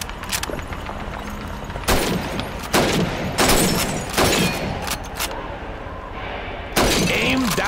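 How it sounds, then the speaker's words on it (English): Rifle shots at a Soviet Red Army training shooting range in Call of Duty 2, shattering bottles and plates in a quick, irregular series of loud cracks and breaking glass and crockery, under continuous background noise and brief voice. "Shoot those bottles and plates."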